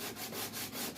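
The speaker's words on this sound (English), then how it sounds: "So yeah, this is my sanding process." Repeated back-and-forth sanding strokes on a painted surface, being scuffed until no shine remains; steady rhythmic rasping swells about every quarter second, close and fairly loud with no talk.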